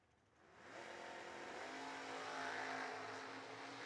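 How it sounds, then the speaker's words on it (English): Drag race cars launching down the strip at the New Year Nationals; after a brief quieter moment the engine roar swells sharply and holds, a sustained, rising howl heard from a distance. "Good, clean drag race."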